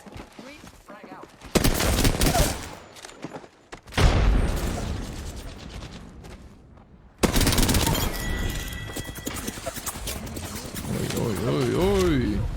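Apex Legends match with bursts of automatic gunfire and clattering weapon mechanisms, loud and close, starting and stopping over about twelve seconds while a player talks over the action.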